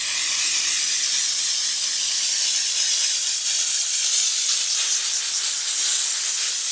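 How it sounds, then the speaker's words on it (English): Steam cleaner hissing continuously on a car's Alcantara interior, a loud, close, steady spray of steam with no talk. "the steamer's not really cleaning anything right now. I'm just kind of getting it damp."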